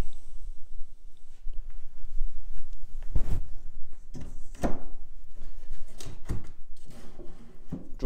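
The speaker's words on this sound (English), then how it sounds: "Drawers are sliding nice and smoothly." Antique bare-wood pine pot cupboard drawers sliding open and shut, heard as soft wooden scrapes punctuated by several sharp knocks as each drawer meets its stop, close by.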